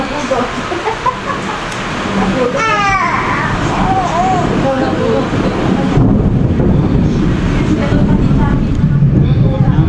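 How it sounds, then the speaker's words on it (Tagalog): Loud thunder rumbles steadily through a storm while chickens cluck and a rooster calls nearby, with wind buffeting the microphone. "Ang lakas ng kulog"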